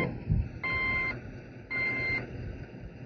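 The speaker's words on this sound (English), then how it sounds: "The backup alarm should sound automatically when the transmission is placed in reverse" An off-road haulage truck's reverse alarm sounds two evenly spaced electronic beeps over a low engine rumble.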